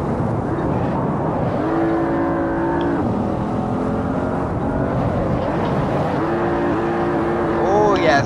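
Porsche Panamera Turbo with a turbo V8 and four-wheel drive, driven in Assetto Corsa at Lake Louise; the engine drones loud and close, rising through revs in two clear pulls, with a voice talking over it.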